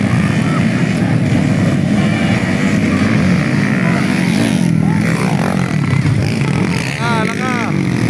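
A motorcycle engine drones steadily nearby, its low rumble continuous while people talk over it.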